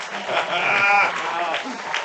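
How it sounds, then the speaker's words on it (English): Baseball fans at a Post 22 Hardhats tournament game applaud a home run, a sustained wash of clapping and cheering from the stands while a commentator talks over it. "A standing ovation from the Hardhats fans."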